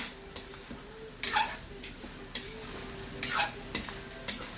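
Food frying with Worcestershire sauce in a hot pan, with a soft constant sizzle broken by repeated scraping strokes of a utensil against the pan, faint and close, with quiet talk in the background.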